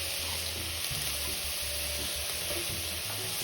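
Black pepper udon sizzling and frying in a pan, a loud steady hiss with stirring scrapes as water goes in, close and continuous with no talk.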